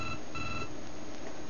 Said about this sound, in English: Well, the phone is ringing.